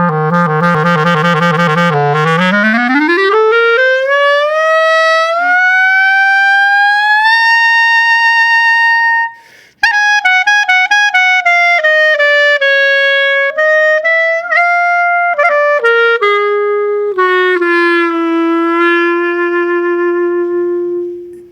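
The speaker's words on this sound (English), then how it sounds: "This is a wonderful jazzy introduction to the Rhapsody in Blue by George Gershwin, beloved by clarinet players everywhere." A solo clarinet plays the jazzy opening of Gershwin's Rhapsody in Blue: a low trill, then a long rising glissando up to a sustained high note, followed by loud, clear melodic phrases with no talking.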